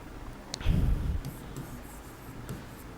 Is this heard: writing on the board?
yes